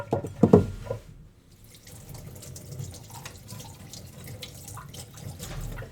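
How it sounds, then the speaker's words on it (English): Tap water runs steadily over a stirrer being rinsed at a lab sink during a pH titration, a brief louder splash at the start settling into a constant close-up flow with no voices. "Rinse it, dry it, and put it in."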